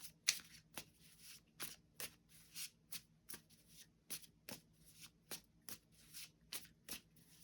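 Tarot cards are shuffled by hand in quick, regular riffles, about a dozen crisp bursts in a steady rhythm. The sound is close but quiet against a silent room, with no speech.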